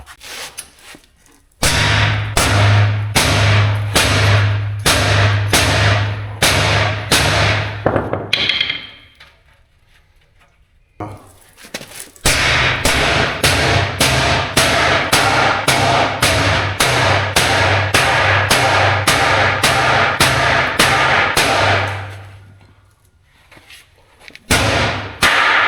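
A big hammer pounds hard steel in rapid, evenly spaced heavy blows, loud and close, in two long bursts separated by a brief pause.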